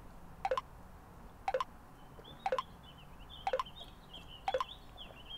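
Phone message notifications chime five times at a steady one-second rhythm, each a short bright double-blip, fairly close and clear over faint background hiss.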